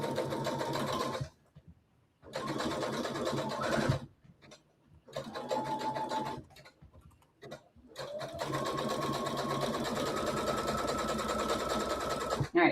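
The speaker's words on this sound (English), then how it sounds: "I'm just sewing a 1/4 inch seam allowance" Brother SE700 sewing machine stitching a quarter-inch seam on a zipper headband, a steady whirring hum in several long runs separated by brief silent stops, the final run longest.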